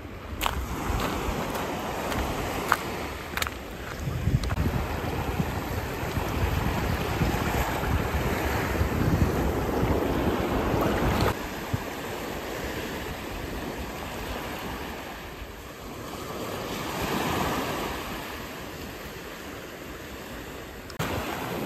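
Sea waves wash onto the shore in a long, steady roar that swells and ebbs over about twenty seconds, with wind buffeting the microphone throughout and no voices.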